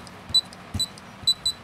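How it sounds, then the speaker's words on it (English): Confirmation beeps from a La Gard 39E safe lock keypad: four short, clear electronic beeps in two pairs, each pair close together, alone and fairly faint. "I get 2 beeps confirmation"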